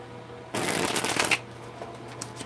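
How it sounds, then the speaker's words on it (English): A deck of tarot cards riffled in one quick shuffle lasting about a second, close and crisp, followed by a few soft card taps in an otherwise quiet room. "go ahead and get these shuffled up"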